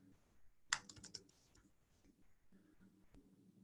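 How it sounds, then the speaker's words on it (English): Computer keyboard keys tapped in a quick burst of clustered clicks, followed by a few scattered keystrokes, fairly close but quiet, with a voice speaking softly in between. "I'm having troubles typing today, evidently"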